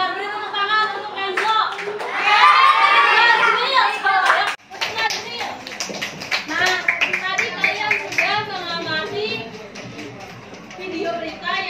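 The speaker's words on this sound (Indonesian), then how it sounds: "beri tepuk tangan untuk Enzo" Children in a classroom clap together for a classmate after he answers correctly, a burst of scattered hand claps mixed with young voices chattering and calling out.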